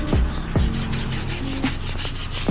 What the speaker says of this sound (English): So you want to give it a good scrub. Make sure you get all the side of the tires.